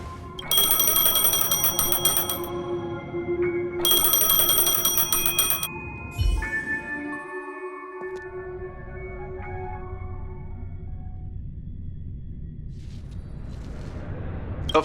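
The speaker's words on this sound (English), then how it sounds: "A phone." A phone rings in the video game Honkai: Star Rail, loud, bright electronic trills repeating in two long bursts, then it stops and a low ambient tone carries on.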